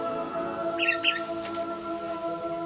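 Parrots calling in the open after a grass fire burned through termite-mound country, giving a few short chirping calls at moderate distance over a steady low background.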